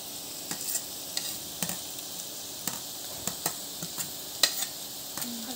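Curry leaves and onions frying in a pan for egg bhurji, with a faint soft sizzle and scattered quick scraping clicks from stirring, no voices.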